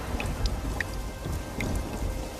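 Heavy rain falls nearby in a constant wash of noise, with a few distinct drips and splashes standing out against the steady downpour.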